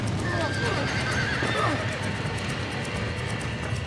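Panicked horses neigh and whinny amid hoof clatter in Red Dead Redemption, several loud overlapping cries over a constant roar of fire or wind, with a voice talking underneath.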